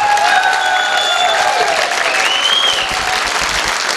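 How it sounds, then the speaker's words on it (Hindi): An audience applauds loudly and steadily at a live talk, the dense clapping filling the whole stretch, with a few faint whistle-like tones rising above it. "आप कितनी तालियां बजाना चाहते हो वो देख लो"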